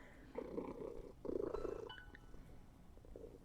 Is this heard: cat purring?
yes